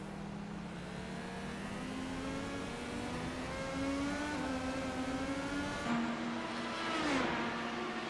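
An Indy Euro Series race car accelerates away under a steady, loud engine note, its pitch rising through gear shifts with a second engine blending in near the end.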